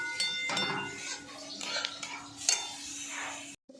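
Semolina (suji) being stirred in a pan on a home stove, with a steady scraping and clinking of utensil against metal under light kitchen clatter and occasional brief sizzles.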